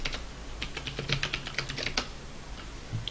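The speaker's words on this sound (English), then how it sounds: "sorry about my loud keyboard" Rapid clacking keystrokes on a computer keyboard, close and crisp, in an uneven run with a brief pause near the end.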